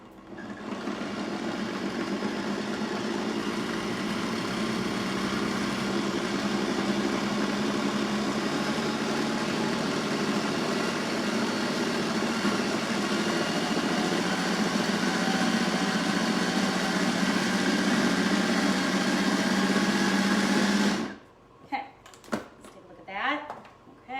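Pampered Chef Flex+ Multi Prep food processor running steadily with a loud, constant motor whir and grinding for about twenty seconds before stopping abruptly, followed by a few clicks and knocks.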